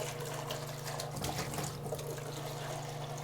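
Water runs steadily from a tap into a sink in a workshop, a continuous close splashing hiss with a low hum underneath, no talking.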